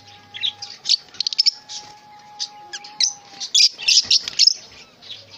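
Fischer's lovebirds in a breeding cage, chirping in close, shrill bursts and rapid tweet series, with busier overlapping calls toward the end.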